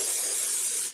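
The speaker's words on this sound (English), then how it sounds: "I'm spraying them over my trash can." A single steady burst of mold release sprayed from a can onto molds over a trash can, a close, bright hiss lasting about a second before cutting off.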